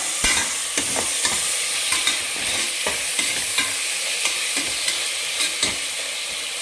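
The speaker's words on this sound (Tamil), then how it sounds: "தக்காளி போட்டு நல்லா வதக்கிக்கோங்க." Tomatoes frying with ginger-garlic paste in a pan for chicken banana leaf biryani: a steady close sizzle punctuated by regular scraping knocks of a spoon stirring roughly every half second, with no voices.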